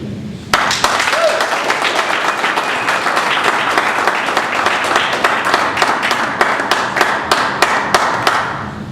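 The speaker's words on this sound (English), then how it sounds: "Please don't clap" Sustained applause from an audience at a public police review board meeting, dense steady clapping for about eight seconds with sharp individual claps standing out, fading slightly toward the end.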